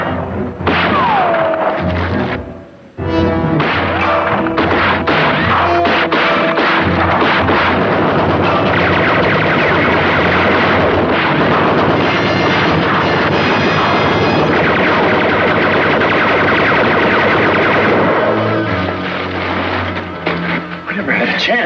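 Sustained, heavy Gatling gun fire in a Western TV drama rattles loudly and continuously, with booming thumps and impacts dominating after a brief pause near the start, voices mixed in.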